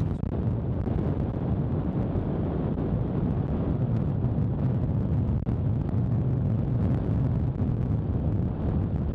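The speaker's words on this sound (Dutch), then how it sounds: "want het waait best aardig hard hier" Strong wind buffeting the microphone 80 metres up a wind turbine above the Westerschelde, a constant loud low roar with gusty rumble throughout and no talk.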